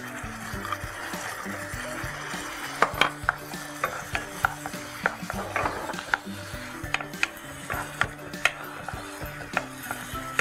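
Mutton with salt frying in a pan while being stirred on a cookery show, a soft sizzle broken by frequent scraping and clattering strokes of a spoon, fairly quiet and close.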